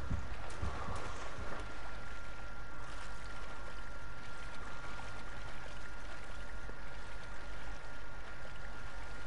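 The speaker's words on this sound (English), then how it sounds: "Underground waterfall." A steady, dense rush of falling water from an underground waterfall in a cave, a continuous broadband roar that stays even throughout with no pauses.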